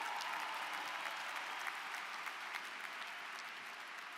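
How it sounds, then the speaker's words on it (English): Steady applause from a large crowd at a 2019 John Jay College commencement, welcoming Senator Chuck Schumer, a dense wash of clapping that stays even and fairly distant throughout. "please join me in giving a big round of applause"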